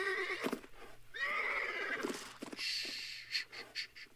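A cartoon horse in Family Guy whinnies loudly several times in close succession, with snorting breaths between the calls, no voices present.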